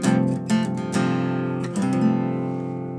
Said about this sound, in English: It's a really nice deep chord. It's an F/G.